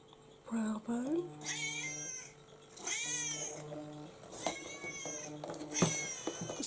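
A phone alarm ringtone that mimics a meowing cat plays in repeated bursts of high, wavering meows, moderately loud over a quiet room.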